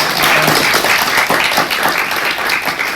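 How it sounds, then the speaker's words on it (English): An audience applauds at a poetry competition awards ceremony in Harlow, with steady, dense clapping that holds at an even, fairly loud level for about three seconds. "let's get another round of applause for all everyone's part."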